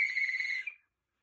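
A single steady whistle tone, high and pure with faint overtones, held loud and close for under a second before cutting off cleanly into silence.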